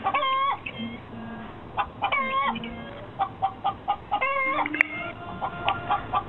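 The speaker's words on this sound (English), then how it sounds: "This is my little chicken." A small chicken in a room clucking and squawking in quick, repeated bursts, close and fairly clear, with some faint background noise and a brief sharp knock partway through.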